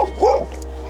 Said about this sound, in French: Oh, c'est rien ma belle, c'est que le chien.